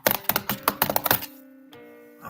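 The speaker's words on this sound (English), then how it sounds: "Sorry for the clacking noises with the" Clacking on a computer keyboard: a quick burst of about a dozen sharp, close keystrokes in an uneven rhythm, then a pause with a faint hum and one more soft tap near the end.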